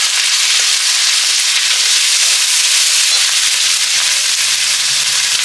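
Garlic, ginger and dried chilli paste hit hot oil for a lote fish curry, giving a loud, steady, dense sizzle that runs unbroken and close throughout with no voices.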